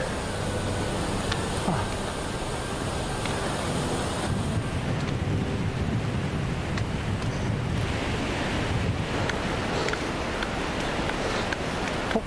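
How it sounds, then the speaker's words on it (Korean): A loud, steady roar of Vernal Fall in Yosemite National Park fills the whole stretch, broad and continuous with wind buffeting the microphone. "폭포가 이제 점점 가까워져요."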